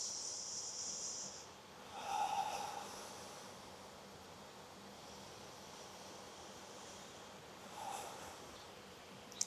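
Slow yoga breaths during a power flow sequence, two soft, long inhale-exhale swells of airy hiss spaced several seconds apart, close and quiet, no talking.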